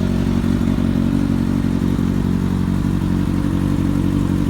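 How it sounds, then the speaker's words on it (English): A 2009 Kawasaki Ninja ZX6R fitted with an M4 GP slip-on exhaust runs close by with a steady, throaty low idle and a mechanical clatter, loud and unbroken throughout. "So I'll turn the bike on for you guys."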